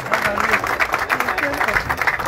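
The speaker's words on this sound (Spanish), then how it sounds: "Ahí está, un aplauso." Applause during a gift presentation at a local news event, a short burst of rhythmic clapping from a small group with voices murmuring over it.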